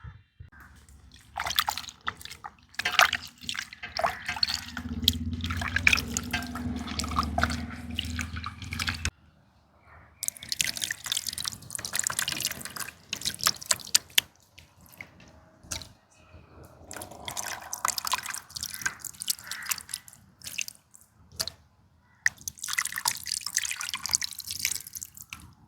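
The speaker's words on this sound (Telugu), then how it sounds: "గుజ్జులాగా చేసి చేప ముక్కలల్లో పోస్తాను" Soaked tamarind pulp poured over pieces of small pond fish, heard as wet dripping and splashing in bursts that break off briefly partway through and then resume, close and moderately loud.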